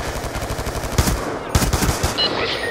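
Machine gun fire from the video game Black Ops 2, a dense run of rapid shots with two louder bursts standing out, sustained and close throughout without speech.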